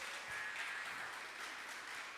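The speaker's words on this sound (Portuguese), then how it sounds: "Aplauda o Senhor nessa noite" A Portuguese-speaking congregation at an evening church service applauds the Lord, giving faint, distant, continuous clapping that holds steady throughout with no speech on top.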